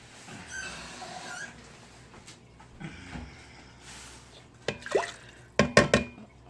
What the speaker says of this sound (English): I'm going to pour the rest of my broth in. Let me add a little bit more water.